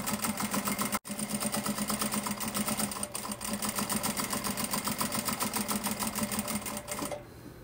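A sewing machine topstitches a fabric piece for a small handmade case in one fast, continuous run with a rapid, even stitching rhythm, broken only by a brief stop near the start before it halts at the end.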